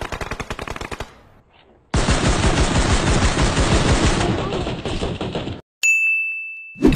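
Automatic gunfire in the mobile battle-royale game PUBG Mobile: a rapid burst, a short gap, then a long sustained volley, followed by a sharp high ding and another loud burst, with loud game-audio effects throughout.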